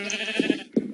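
Minecraft sheep bleat in short, rapid calls, two quick bleats followed by a third, clear and close over a steady game background.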